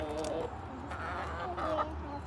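Soft clucking and chatter from chickens close by over a low background rumble.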